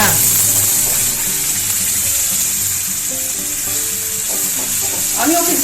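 A paste added to fried onions in a pan sizzles loudly and continuously, close up, with faint stirring underneath.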